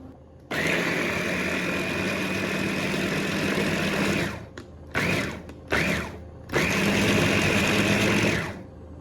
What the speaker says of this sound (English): I'm gonna blend this up in my food processor